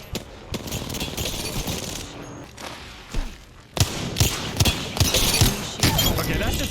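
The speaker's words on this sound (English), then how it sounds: "I hit every single wingman shot." Wingman pistol shots in a console shooter land as a string of punchy, evenly spaced reports, growing louder and more frequent in the second half amid other game effects.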